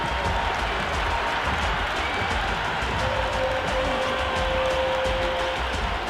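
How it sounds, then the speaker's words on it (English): A stadium crowd in the Cricket 26 video game, at a PSL match between Karachi Kings and Peshawar Zalmi, cheers a six with a steady, dense roar of applause and shouting that holds at full level throughout. "There's a buzz, a real buzz coming from the stands."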